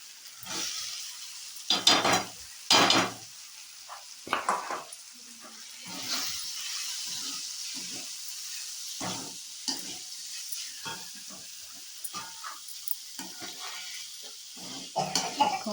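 Chhena bhujia fries in a pan, with bursts of sizzling and scraping stirs close by, irregular loud strokes over a soft hiss.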